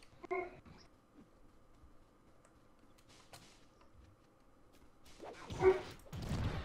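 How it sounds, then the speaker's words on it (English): A dog barks in the background, a short burst of yelps near the start and another louder cluster toward the end, with quiet room and game noise in between. "your dog is barking"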